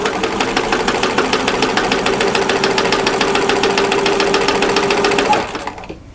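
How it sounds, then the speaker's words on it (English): Sewing machine stitching through overlapping fabric of an envelope-style pillow cover, a fast, even mechanical chatter that runs steadily for about five seconds before the needle slows and stops. "And just keep sewing as if this is one piece of fabric."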